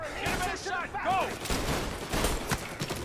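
Gunfire in Mafia: Definitive Edition rings out in several loud, sharp reports amid a short exchange, with someone talking over the start.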